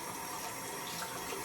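Tap water runs steadily into a sink while a beauty blender sponge is wetted under the stream, a continuous close splashing rush with no talk.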